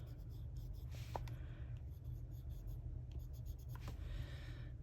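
Colored pencil scratching across paper while coloring a green area, a steady close-up series of soft scratchy strokes with brief pauses, no talking.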